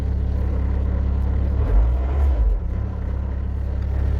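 Skid steer loader engine running steadily at a low idle, a deep continuous rumble with a brief throttle swell midway before settling back, heard close up with no talking.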